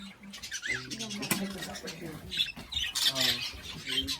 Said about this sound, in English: English Budgie. Oh, tiny baby.